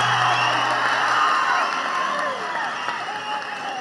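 An audience at a political speech bursts into loud, continuous applause with some cheering, sustained throughout without a break.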